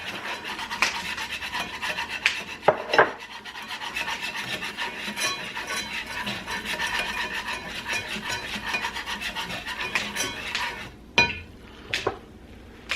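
A whisk scraping and rubbing steadily inside a pan of browning sausage gravy, a continuous close rasp with occasional metallic clinks and a couple of sharper knocks near the end.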